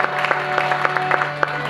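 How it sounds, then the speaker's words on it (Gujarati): Audience applause at a Shreemad Bhagvat Gnanyagna religious discourse gathering, a steady patter of many hands clapping together with a low hum beneath, moderately loud and continuous through the short stretch. "પહેલા તો આપણે બધા તાળીઓના ગડગડાટથી એમને વધાવીએ."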